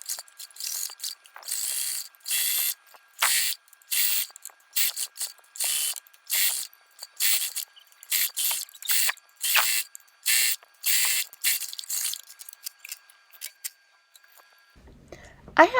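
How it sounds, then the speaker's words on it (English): A sewing machine stitches a fabric mask in steady, repeated bursts of rapid mechanical chatter with short stops between runs, ending with a brief handling sound. "lift my presser foot, then lift my needle, and then push it forward so I could get it to sew"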